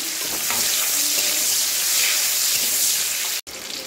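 Chopped onion frying in hot oil in a wok seasoned with panch phoron, a steady close hiss with faint scraping that cuts out briefly near the end.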